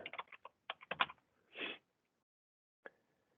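Computer keyboard typing in a quiet room: a quick burst of clustered keystrokes, a short sweeping slide-like sound, then one isolated key click after a pause, all close and fairly faint.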